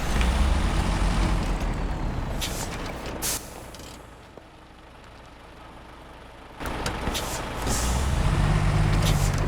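A truck fitted with mud tyres driving in the SnowRunner video game, its engine rumbling and roaring loudly up close, easing off midway before building again, with hissing, air-brake-like bursts.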